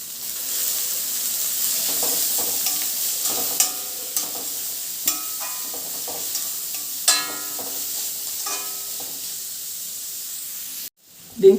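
Beans and capsicum stirred in a hot frying pan, a steady sizzle and hiss with a string of distinct spatula scrapes and knocks against the pan, fairly close and soft.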